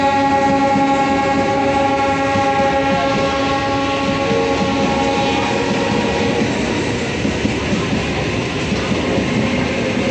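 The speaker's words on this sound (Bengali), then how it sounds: "কত জোরে করছে ট্রেনটা।" A loud train roars past close by for the whole stretch, wheels rumbling steadily with a strong tonal hum along the cars, the sound staying heavy and continuous without any talking.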